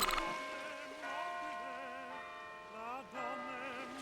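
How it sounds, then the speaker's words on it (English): A distant clock tower bell tolls with ringing, wavering tones over a soft wash of waves lapping in a seacoast town, no talking. "A clock striking and waves lapping."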